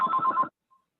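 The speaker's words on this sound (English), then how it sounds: "Whoever phone it is or whatever you got ringing, mute it." A phone rings during a city council meeting, one short electronic ringtone burst of rapid repeated pulses lasting about half a second, then quiet apart from a faint brief blip.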